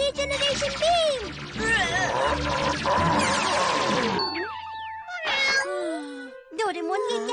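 A cartoon cat meows repeatedly in loud, bending, cartoonish cries, followed by brief springy effects and short pauses of near silence.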